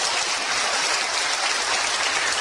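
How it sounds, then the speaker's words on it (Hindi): A large audience applauds loudly and continuously, a dense wash of clapping from many hands with no pauses, close and full. "ब्रिट वर्ल्ड वाइड के लिए आप जोरदार तालियां बजाइए"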